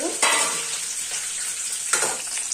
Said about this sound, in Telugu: చూసారా పచ్చిమిర్చి అయితే మంచిగా ఫ్రై అయిపోతుంది